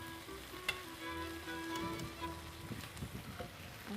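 Chicken breast lightly frying in a pan makes a faint, even sizzle with scattered small crackles and pops, with no talking over it.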